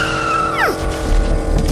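A cartoon motorcycle speeds off and skids. A loud, sharp tire screech swoops downward over engine noise, and a rumbling roar follows. No one speaks.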